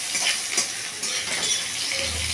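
Ginger and green chillies sizzle steadily in hot tempering oil for a vegetarian dalia dish. The close, bright frying hiss stays even throughout, with a faint clink of stirring.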